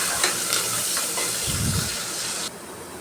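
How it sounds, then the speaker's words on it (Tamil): Asafoetida sautéing in a hot pan, a loud close hiss and sizzle with brief stirring scrapes, dropping abruptly quieter near the end. "நல்லா பெருங்காயம் வந்து வதங்கிருச்சு அதை அந்தளவுக்கு வதக்கி எடுத்துட்டால் போதும்"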